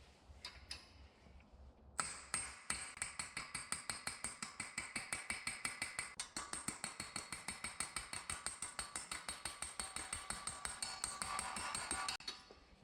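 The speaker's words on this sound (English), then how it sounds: "I just slowly tap on the end of the knuckle until it pushes through the hub" A hammer taps steadily on the end of a car axle knuckle to drive it through the hub on a 2014 Subaru WRX/STI, giving a long run of sharp, evenly spaced metallic clinks, close and clear.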